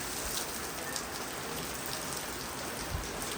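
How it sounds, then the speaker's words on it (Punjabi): Heavy rain pours down and blows in through an open door into a room, making a dense, continuous patter and hiss of drops with a few sharper splashes, soft and somewhat distant. "ਕਮਰੇ 'ਚ ਕਿਦਾਂ ਬਾਰਿਸ਼ ਜਾਂਦੀ ਸਿੱਧਾ ਹੀ ਮੀਂਹ ਪੈਣ ਦੇ ਅੰਦਰ"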